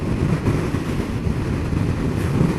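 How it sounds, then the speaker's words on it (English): Wind buffeting roars against the rider's helmet on a 2014 Kawasaki Z1000SX motorcycle, a loud, continuous low rumbling rush with uneven gusty pulses throughout. "I've got some wind buffeting on my head"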